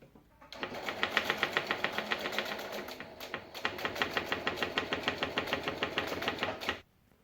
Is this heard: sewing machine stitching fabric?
yes